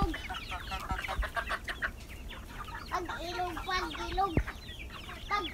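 Backyard chickens cluck and chatter all around at close range, with busy overlapping calls and a few sharp squawks, over a quiet background.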